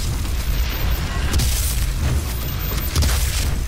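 Boss cannon firing in the video game Doom: heavy, loud booming blasts rolling into one another, with a couple of stronger bursts standing out over continuous rumbling.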